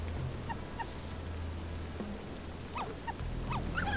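Small yips and whimpering barks from a badger cub in the video game Shelter, several short cries over a low droning ambient hum.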